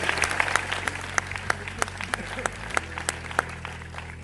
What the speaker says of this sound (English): Give Jill Kershaw another round of applause.